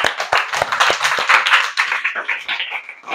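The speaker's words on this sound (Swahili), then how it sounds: "Tumpigeni makofi." A group of people clap together for a child, a dense burst of rapid hand claps near and loud that gradually thins and fades toward the end, with no talking.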